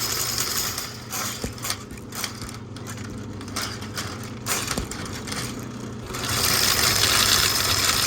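A drain snake spins inside a clogged toilet pipe with a continuous grinding, rattling whir. Faint knocks are heard along the way, and the pitch rises louder toward the end.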